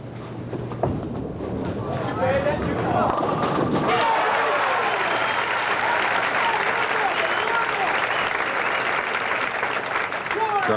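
Spectators at a bowling final at Dick Weber lanes break into loud, sustained applause and cheering, which starts under a commentator's voice and keeps going steadily.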